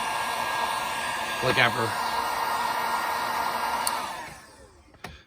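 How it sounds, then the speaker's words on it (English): A hair dryer blows with a loud, steady hiss for about four seconds before switching off and winding down; someone speaks briefly over it. "I gotta go get a hair dryer to remove his thing"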